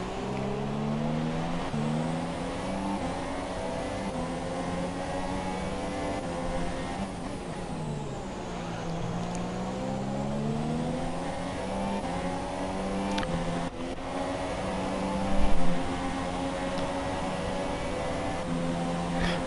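Race cars in the F1 2017 video game roar with a constant high-pitched engine whine during a community race in Brazil, shifting pitch as they accelerate and brake past one another.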